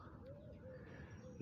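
Pigeons coo softly in a park, a low, faint, rolling call heard at a distance over quiet outdoor ambience.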